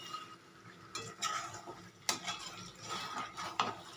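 Chicken kosha is stirred and fried in oil in a pan with a spatula, giving soft scraping and occasional clinks of utensil on metal, fairly faint with a low background sizzle.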